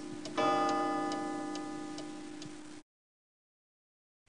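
An old wind-up pendulum clock ticks at a steady, even pace over a sustained ringing tone, close and clear, then cuts off into silence.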